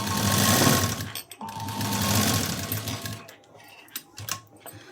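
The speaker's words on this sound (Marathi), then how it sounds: "ती क्रॉस पट्टी आपल्याला या मेन फॅब्रिकशी जोडून घ्यायची आहे स्टिच करून घ्यायची आहे" A sewing machine joins a cross strip onto main fabric in two fast, rattling bursts of stitching, then gives way to scattered clicks and handling sounds.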